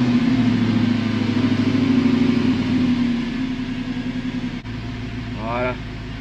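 A car engine turns over and settles into a steady, fairly loud idle hum, with a brief dip partway through, while someone talks over it.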